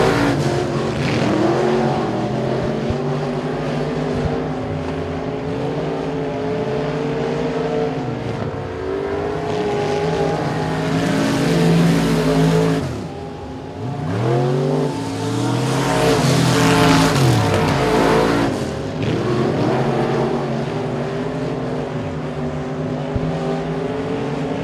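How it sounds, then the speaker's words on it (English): Limited modified race cars run a heat race at Sabine Speedway, their engines roaring steadily as several cars pass by in waves, with revving surges and a brief dip in the noise, and nobody speaking. "four laps remain here in heat race number one for the limited modifieds"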